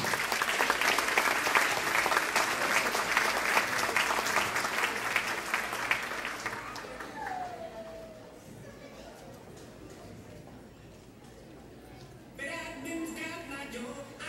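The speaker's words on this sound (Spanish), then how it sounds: "Recibamos con un fuerte aplauso al grupo TexMex." A crowd applauds a dance group at an event in Ecuador, loud dense clapping for several seconds that fades, with voices talking over and after it.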